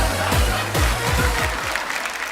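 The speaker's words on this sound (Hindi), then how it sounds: "जोरदार तालियां।" An audience at a Hindi poetry recital applauds, a brief burst of clapping with a few low thumps, fading toward the end.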